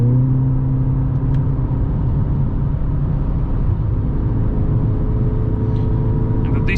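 Inside a Mercedes GLA 45 S AMG accelerating on the German Autobahn toward 160, a steady low engine drone and road rumble fill the cabin, rising slightly and continuously.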